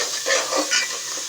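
Carrot halwa roasts in ghee with soft stirring scrapes and a gentle sizzle that swells in short pulses, close and fairly loud.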